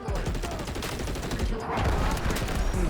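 Rapid, sustained P90 submachine gun fire in a shooter video game, loud and close, with overlapping shots and distant gunfire layered together over nearly three seconds.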